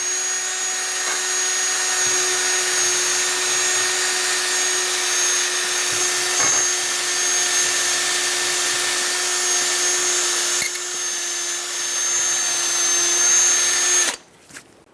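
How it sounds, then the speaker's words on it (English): A power drill spinning a bore brush to clean rust whines at a steady high pitch for over ten seconds, briefly dipping once, then stops abruptly near the end. "I'm going to clean out all the rust that's in here with a bore brush on my drill"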